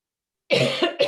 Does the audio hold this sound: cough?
yes